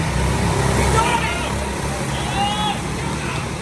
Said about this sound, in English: So these go-karts go like 45 miles per hour.